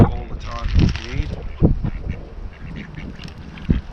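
Ducks quack near a moored narrowboat on a shallow canal in the evening, a cluster of nasal calls in the first two seconds and a few more later, with people talking at the same time.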